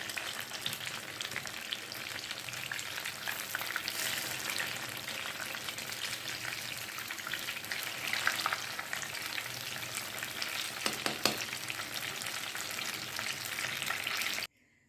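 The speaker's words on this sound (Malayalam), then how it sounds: "ബാക്കിയും കൂടി ഇങ്ങനെ വറുത്ത് കോരി" Banana fritters (pazham pori) deep-frying in hot oil, giving a dense, continuous bubbling sizzle that stays steady for the whole stretch before cutting off abruptly at the end, with no one speaking.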